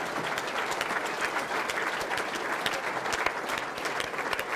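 An audience in a debate room applauds steadily, a dense sustained wash of many hands clapping at even loudness throughout, with no talk over it.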